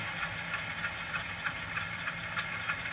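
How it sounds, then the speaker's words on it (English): Air compressor effect from a model locomotive sound decoder in a Rivarossi ACL U25C, a steady low idling mechanical drone with faint rhythmic chuffing pulses, moderately quiet and continuous. "F11. The compressor."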